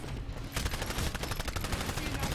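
Rapid automatic gunfire in Titanfall, a dense continuous burst of shots, fairly faint and distant-sounding, with no talk over it.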